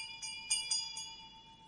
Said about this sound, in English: Silence that dreadful bell! It frights the isle from her propriety.